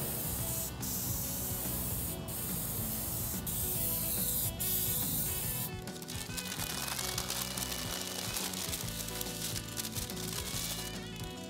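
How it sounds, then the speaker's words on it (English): Gloss spray varnish hisses from an aerosol can onto a handmade latex symbiote creature, broad steady spray bursts running through most of the stretch at close range, with brief pauses between passes and no talking. "we're gonna hit it with some gloss spray varnish"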